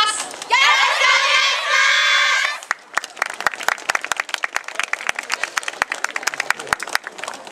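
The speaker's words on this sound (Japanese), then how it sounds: "手拍子足拍子よろしくお願いします" A crowd at a dance performance at the Isshinden Tanabata festival in Japan claps in a steady rhythm, sharp hand claps ringing out after a burst of loud cheering and shouting from many voices.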